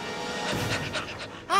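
A cartoon dog pants in quick, breathy bursts, fairly close and soft, ending in a short, sharper vocal yelp.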